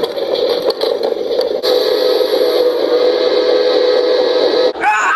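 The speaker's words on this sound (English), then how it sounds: "That's a train!" A long, loud, steady train whistle holds for about five seconds with noise beneath, then breaks off as a voice cuts in at the end.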